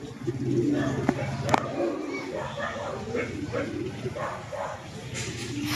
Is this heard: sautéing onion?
no